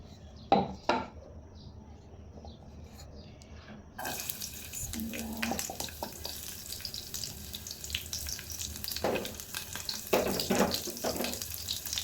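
Tap water runs and splashes into a kitchen sink during home cooking of a rohu fish-head muri ghonto, a steady rush with dish clatter, louder after the first few seconds.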